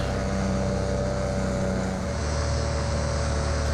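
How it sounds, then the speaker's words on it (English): A small aircraft makes a low flyby, heard as a steady, loud propeller-engine drone with a constant hum throughout and no speech. "I think I'll just do a little flyby and check it out from the air."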